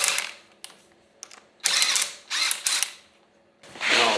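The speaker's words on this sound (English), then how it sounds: "Okay, I left these lug nuts here for safekeeping, but now time to pop them off." Lug nuts come off a wheel hub on a Dana 80 axle during a truck build, with several loud, close ratcheting, mechanical bursts separated by short pauses.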